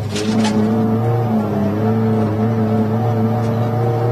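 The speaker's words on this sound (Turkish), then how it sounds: "Bu araba 185 beygir civarında normal trafikte gördüğünüz araçlardan iki katı daha güçlü" A rally car of about 185 horsepower, prepared for an Istanbul rally, runs loud and close with a steady, sustained engine drone and harmonic whine throughout, without pause.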